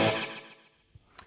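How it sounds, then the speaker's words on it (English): A Seymour Duncan Fooz analog fuzz tone runs through a TC Flashback delay set for very fast slapback repeats, so a short burst decays quickly into a couple of faint, clipped echoes. "over here we have a TC flashback providing just a little bit of splash"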